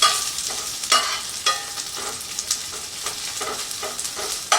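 Cheesy smashed beef burgers fry and brown in a pan with a close, steady sizzle, broken by occasional soft scrapes and pops, with no voices.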